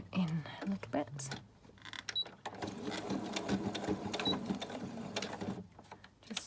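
A sewing machine stitches around a Halloween-themed gothic junk journal in short bursts of rapid mechanical whirring, starting and stopping, with a voice talking intermittently between runs.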